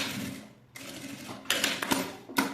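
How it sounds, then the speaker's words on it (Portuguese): Sewing machine stitching a bag strap in short separate bursts, a brief run first, then a pause, then several quick choppy stitching passes close by. "Já coloco um clipezinho e já passo a costura pra segurar a alça."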